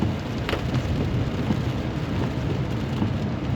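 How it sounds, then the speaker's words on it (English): Rain and wind make a steady, moderately quiet wash of noise with no break across the few seconds. "It's really just going to be rainy, windy all day today."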